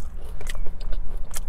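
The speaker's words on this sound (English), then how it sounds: "Let's try it with some McDonald's fries." Close-up crunchy bites and chewing on McDonald's french fries, with a few distinct crisp bites and wet mouth sounds over a short stretch, loud and intimate, with no speech.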